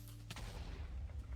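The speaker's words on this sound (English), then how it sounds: "Let's quickly just deal with this guy before I have another explosion." A creeper explodes in Minecraft, giving one sharp, booming blast followed by a deep rumbling tail that lingers at low volume.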